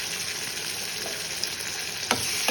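Onions, garlic, curry leaves and tomato frying in oil with salt, a loud close continuous sizzle with occasional scrapes of stirring, no voices.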